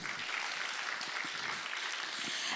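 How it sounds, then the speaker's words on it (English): Steady, dense applause fills a conference hall, a continuous wash of many hands clapping at an even level throughout with no voices on top. "let us give them a great round of applause"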